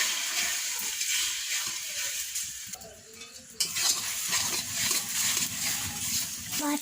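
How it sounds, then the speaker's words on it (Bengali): Egg frying and being scrambled in a wok-style pan, a steady sizzle with stirring scrapes, briefly quieter midway before the crackle returns, no talking. "এবার ডিমটাকে ভালো করে ভেজে ঝুড়ি করে নেবে"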